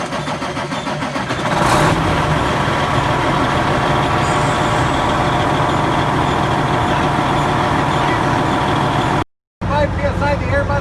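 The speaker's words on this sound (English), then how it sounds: "Then we're going to start the truck." An air-brake-equipped truck has its engine running with a loud, steady, continuous rumble close by, broken by a brief cut near the end, with a person speaking over it.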